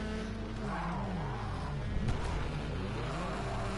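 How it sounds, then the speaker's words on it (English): Rally car tyres squealing in the Rally Fighters racing game, wavering tonal squeal over a constant engine drone, with a brief louder scrape midway. "hear a lot of tyre squeal there"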